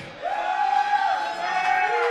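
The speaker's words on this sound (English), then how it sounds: "And his boisterous cheering section" A boisterous cheering section whoops and yells together, a short loud burst of crowd noise that swells quickly and holds.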